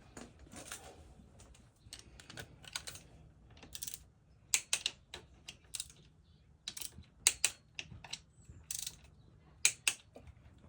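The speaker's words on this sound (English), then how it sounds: "you want to torque these to about 6 Newton meters" A torque wrench clicks and ratchets while bolts are tightened during a water pump install on a KTM 300 XC dirt bike, giving sharp, close, irregular ticks over a quiet background.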